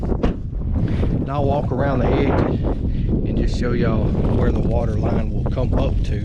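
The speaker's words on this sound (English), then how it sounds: "I'm sorry about the wind." Wind buffets an outdoor microphone beside a newly dug farm pond on a windy day, rumbling steadily beneath someone talking throughout.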